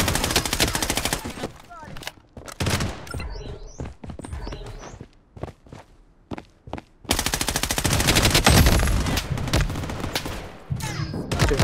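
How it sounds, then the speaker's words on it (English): Bursts of rapid automatic gunfire and sniper shots from the Blood Strike battle royale video game, loud clustered volleys separated by brief quieter gaps with scattered footsteps, with a player talking at times. "I'm being sniped."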